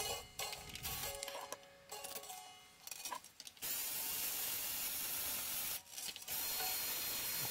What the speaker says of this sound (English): So let's get these strings off.